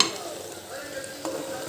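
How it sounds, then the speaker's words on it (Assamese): Meat fries in hot spiced oil while being stirred in a pan, a steady close sizzle with the scrape and clink of the stirring utensil rising over it. "এতিয়া মাংসখিনি ধুনীয়াকৈ ভাজি থাকিম প্ৰায় 10-15 মিনিটৰ কাৰণে"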